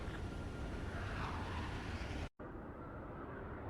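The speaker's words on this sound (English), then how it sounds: "Multiple unidentified aircraft approaching." Aircraft approaching in the Ace Combat 7 combat flight game, a steady broad engine roar that cuts out briefly and returns slightly quieter, with no talk.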